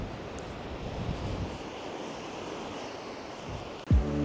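Atlantic Ocean waves break on a beach on Islay, a steady broad rush of surf with wind buffeting the microphone, ending in a brief low thump near the end.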